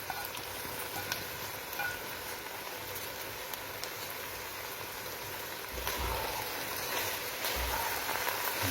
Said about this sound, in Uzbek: Guruchni ham 5-6 daqiqa qo'shib qovuramiz.